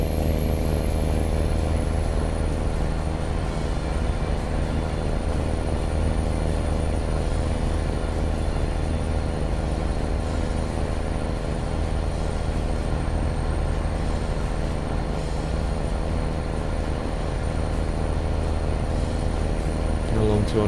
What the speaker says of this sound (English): Quite a loud engine though. I hope you guys can hear me over the roar of this thing.